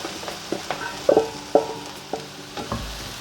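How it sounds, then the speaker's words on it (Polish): Mushrooms tossed into a pan of frying onion and garlic, giving soft stirring scrapes and light sizzle with a few sharper knocks of utensil on pan, close and moderate in level. "Do cebuli z czosnkiem wrzucam pieczarki."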